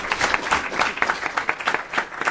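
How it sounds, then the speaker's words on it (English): Audience applause for a speaker and commentator at an academic talk on Islamic charities, a few seconds of steady clapping from a modest crowd, fairly close and even throughout. "please join me in a round of applause for our speaker and commentator"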